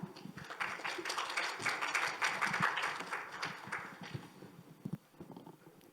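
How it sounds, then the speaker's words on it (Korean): A conference audience claps to welcome the next presenter at a corporate SaaS cloud briefing, a dense, steady round of applause filling the room for several seconds before thinning into scattered claps. "박수로 환영해 주시길 바랍니다"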